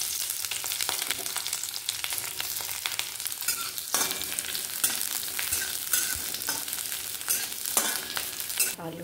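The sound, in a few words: onion frying in a pan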